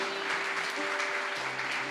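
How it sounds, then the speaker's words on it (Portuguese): A church congregation gives a short burst of dense applause, with a sustained organ or keyboard tone sounding beneath the clapping. "pode aplaudir Jesus pela vida dele"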